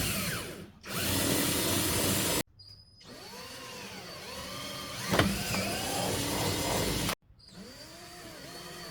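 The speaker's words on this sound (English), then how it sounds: "now I can start drilling into the side splitter and bumper" A cordless drill bores into the side splitter and bumper of a supercharged 2010 Audi B8 S4, heard up close as several whining bursts that rise and fall in pitch, separated by short silent gaps.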